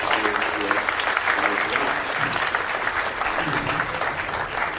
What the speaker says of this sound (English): So please give a round of applause to all of those schools